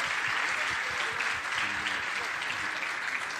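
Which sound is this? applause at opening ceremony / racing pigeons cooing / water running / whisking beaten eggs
applause at opening ceremony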